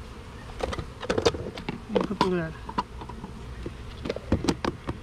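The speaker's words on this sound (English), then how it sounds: "I've got roughly half a cup of bees." Honey bees buzz in a cup during a varroa mite check, a close, wavering drone in short bursts, with some clatter of handling and a person speaking briefly nearby.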